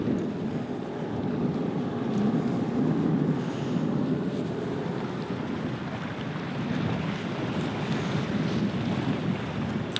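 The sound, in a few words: wind by the water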